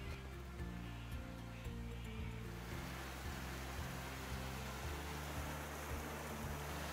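Small waterfall in the Dandenong Ranges running at low water after little rainfall, a steady broadband rush of falling water heard continuously and fairly close, with a low rumbling undertone and no voices.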